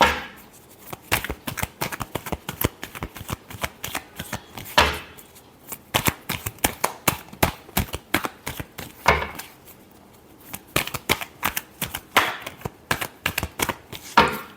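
Tarot cards are shuffled by hand in repeated bursts of crisp riffling and slapping, close and fairly loud, with short pauses between rounds and no talking.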